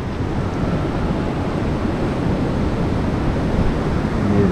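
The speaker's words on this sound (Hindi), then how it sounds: "अरे भाई ये देखिए लहरें कितनी तेज पानी रफ्तार से निकल रहा है" The flooded Shivnath river near Bhilai and Durg roars past loudly and close, its fast rushing water and churning waves forming a continuous dense rumble with no voices.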